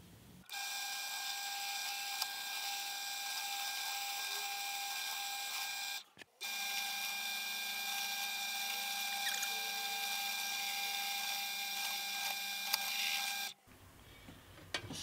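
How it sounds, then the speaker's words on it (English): Drilling holes in small parts for a homemade thickness caliper: a steady high-pitched motor whine holds for about six seconds, stops briefly, then runs again for about seven more seconds at a constant pitch, no talking. "So now I just have to get these drilled up"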